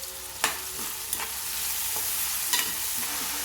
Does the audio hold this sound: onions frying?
yes